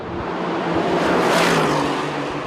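A loud, deep 2018 Aston Martin Vantage engine with optional quad exhaust roars steadily with a rising and falling growl, dense rumbling exhaust noise filling the whole clip.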